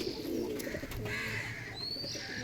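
A lively domestic pigeon coos softly and steadily close by, a low murmuring call with a faint higher chirp near the end and no talk.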